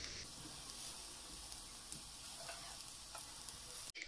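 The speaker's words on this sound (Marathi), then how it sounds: "आता मी ॲड करूया ऑनियन्स जे आम्ही फ्राय करून घेतलेले." Fried onions are added to a vegetable pulao and stirred, giving a soft, continuous sizzle with scattered scraping stirs and a brief knock near the end, heard up close without talk.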